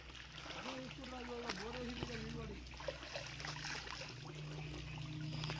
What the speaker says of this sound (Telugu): ఇంత ఎండాకాలంలోనే ఇన్ని వస్తున్నాయి నీళ్ళు.